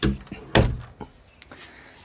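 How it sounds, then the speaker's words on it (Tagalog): A house door is pulled shut in a new home, with a sharp thud early on, a louder closing knock a moment later and a few fainter latch clicks after it. "sara ko yung pinto at pumapasok yung langaw"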